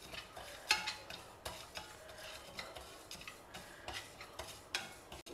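Moong dal and chana dal dry roasting in a pan, the lentils scraped and stirred in a quiet run of soft irregular clicks and rustles with no talking.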